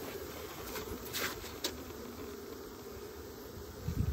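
Honeybees hum around an open hive in early March, a soft continuous buzz with a few louder passes of individual bees close by.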